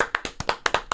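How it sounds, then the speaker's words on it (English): A short burst of sharp, rhythmic hand claps, close and distinct, about eight in one second, as a round of applause on a recap podcast. "let's just end this by giving a round of applause for Emily"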